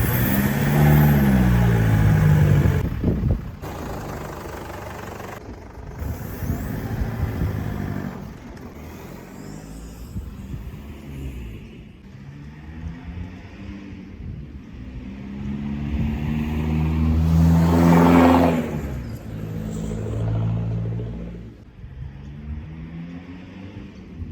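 A car with newly fitted exhaust revs and accelerates past, its engine note rising and falling through several gear changes and swelling loudest as it nears, with no talking.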